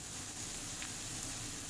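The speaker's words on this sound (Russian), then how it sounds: "И продолжаем жарить грибы" Mushrooms and onion frying together in a pan for a mushroom casserole, giving a steady, even sizzle that runs unbroken at low level with no talk over it.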